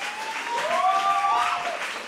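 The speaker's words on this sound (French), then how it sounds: "Vous pouvez l'applaudir." A live show audience applauds as a guitarist is called to the stage, a steady crowd clapping wash with tonal whistle-like sounds rising over it.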